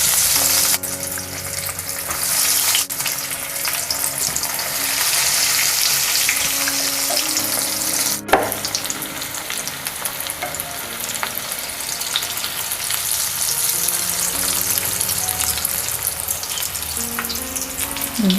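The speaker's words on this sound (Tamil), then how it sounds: "இப்போ இந்த சைடு ஆயில் நமக்கு நல்ல ஹீட் ஆகிடுச்சு. நம்ம டீப் ஃப்ரை தான் பண்ண போதும்." Potato egg kebabs deep frying in hot oil on a low flame, a steady loud sizzle and bubbling crackle running continuously throughout with occasional stirring clinks.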